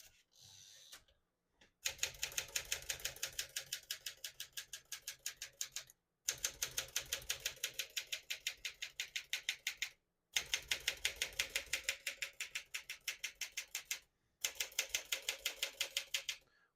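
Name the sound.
typing on 1957 Smith-Corona Silent-Super portable typewriter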